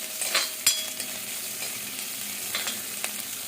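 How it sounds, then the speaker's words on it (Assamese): Crushed garlic and ginger paste sizzles steadily in hot oil in a home kitchen, a continuous close frying hiss with a few brief stirring scrapes, no talking. "ভালকৈ ভাজি লওঁ।"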